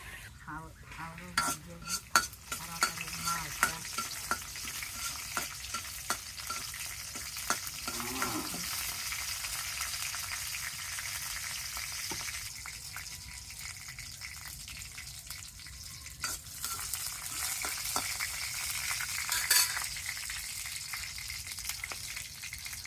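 Leafy greens frying in hot oil with garlic, a steady sizzle that swells midway as the greens go in, with scattered spoon scrapes and clinks against the pan.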